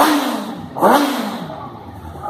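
A 2020 Kawasaki Ninja ZX-6R four-cylinder motorcycle engine blips sharply once at close range, rising in pitch before settling back to a steady idle.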